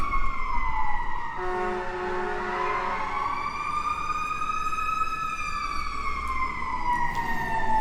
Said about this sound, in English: I'm sorry, again, about the sirens.